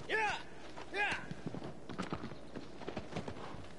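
Horse hooves clip-clop in a steady, light rhythm in a PS4 video game, fairly faint, with a couple of whinny-like calls at the start and some voice in the background.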